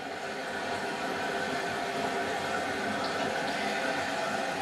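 Kohler Highline Class 5 toilet flushing, a steady rushing, hissing wash of water held at even strength throughout, close by with no talk.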